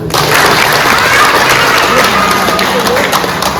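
An audience bursts into loud, close applause, a dense burst of many hands clapping that holds steady for a few seconds, with some voices mixed in.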